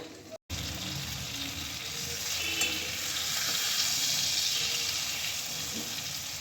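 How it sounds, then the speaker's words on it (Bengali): Shrimp paturi wrapped in taro leaves fry in a pan with a steady, close sizzle that runs throughout, after a brief break at the start, and no talking. "যেহেতু চিংড়ি মাছ অল্প সময়ের ভিতরে ভাজা হয়ে যাবে"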